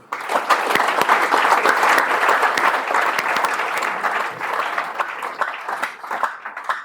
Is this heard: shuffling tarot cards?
no